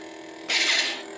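A sudden bright crackling burst of a 2015 Darth Vader Force FX toy lightsaber clash, sharp onset then fading over about half a second, fairly loud over a low background hum.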